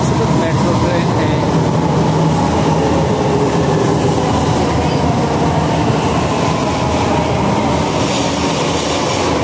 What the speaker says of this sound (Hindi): समयपुर बादली के लिए ट्रेन आपके सामने चमकता हुआ सितारे के जैसे आ रहा है।